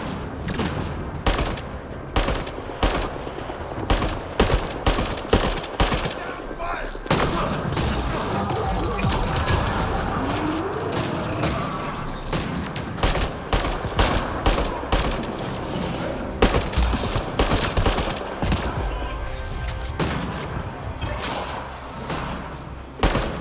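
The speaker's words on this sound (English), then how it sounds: "Stop shooting me." Sustained video game gunfire in Mass Effect: Andromeda, dense rapid bursts of shots and impacts crackling loudly and nearly continuously with brief pauses, combat close and intense.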